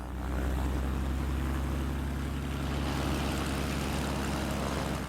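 Two Cessna 172 Skyhawk piston engines run up to full power, making a continuous loud propeller drone with a steady rough throb and no talk over it.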